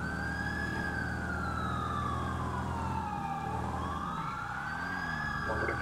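A vehicle siren in the video game GTA 5 wails, sweeping slowly up and down in pitch over a steady engine drone, continuous and fairly close.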